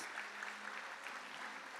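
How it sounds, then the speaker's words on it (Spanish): Audience at a TEOMA 2019 presentation applauding the newcomers, a steady wash of many hands clapping at low level, continuous and fairly distant. "fuertes aplausos para ustedes y bienvenidos"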